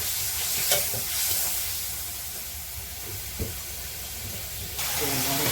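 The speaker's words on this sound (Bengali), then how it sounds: "একটু হালকা জল দিয়ে নেড়ে নেবে" Food being stirred in a pan after a splash of water, with a steady sizzling hiss throughout, a few scraping knocks of the utensil, and a burst of louder spray near the end.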